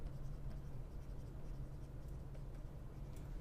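Faint, steady scratching of a pen writing out a math exponent during a lesson, low and continuous over a quiet background with no speech.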